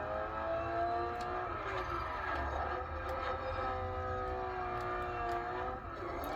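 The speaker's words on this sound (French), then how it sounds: "Là c'est une compétition, enfin pas une compétition mais une course de drift." A car drifts during a drift event, its engine holding a sustained, revving tone with shifting pitch, heard at a moderate distance and fairly quiet overall.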